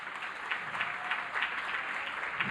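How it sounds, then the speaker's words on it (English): Applause from a seated audience at a charity dance gala, a steady, even wash of many hands clapping at moderate volume with no voices on top. "Yes, let's clap right now."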